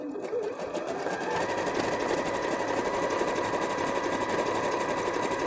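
Sewing machine stitching through layers of scrap denim for an embroidered mat, a steady close mechanical whir with rapid needle rhythm running continuously after a brief start.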